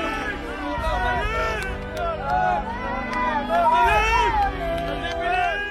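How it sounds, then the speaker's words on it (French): Football supporters cheer and applaud as players leave the pitch, a steady crowd roar with chanting and whoops running throughout, with voices mixed into the noise. "Philippe et Luc quittent le terrain sous les applaudissements nourris des supporters."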